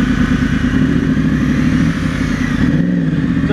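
A Honda CBR 250 motorcycle rides along a road, its engine droning steadily and loudly close by, with constant wind noise throughout and no speech.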